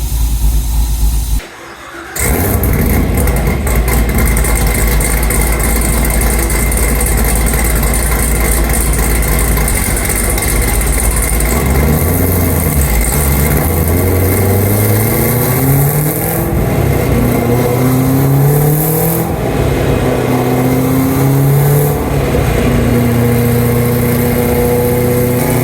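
A 2018 Camaro ZL1 1LE engine on a dyno, loud and close, idling briefly before climbing through a long rising rev pull, the pitch sweeping upward repeatedly toward high rpm for over twenty seconds.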